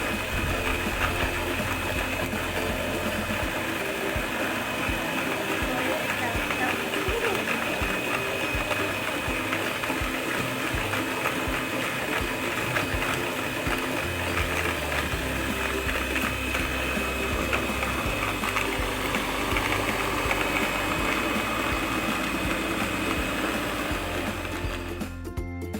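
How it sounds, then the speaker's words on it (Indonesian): An electric mixer whips an ice cream mixture, a continuous close whirring motor drone with a steady rattling texture that runs unbroken throughout. "Lalu aduk menggunakan mixer atau bisa diganti dengan pengocok manual, tetapi hasilnya sendiri lebih bagus menggunakan mixer"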